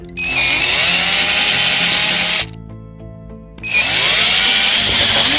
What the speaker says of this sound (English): I'd like to drill the holes for my screws